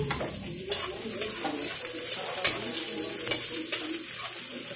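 Onion fries in a pan after garlic, giving a continuous crackling sizzle up close, broken by small clicks of stirring, with faint bird calls in the background and no talk.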